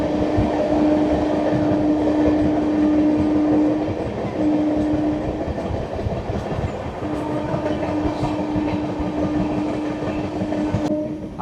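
Amrit Bharat Express train rolling on rails past a station, a loud continuous rumble with rhythmic wheel clatter and a steady tonal hum, heard from on board.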